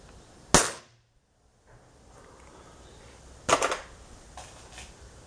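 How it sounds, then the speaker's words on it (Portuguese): A CBC Montenegro Standart F18 air rifle fires a single Crosman pellet with one sharp, close crack. A few seconds later comes a second, rattling burst of sound. "Primeiro disparo com chumbinho cross."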